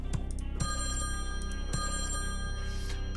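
A phone rings in the video game Slayaway Camp, with a steady electronic bell tone repeating over a low hum, moderately loud with no talking.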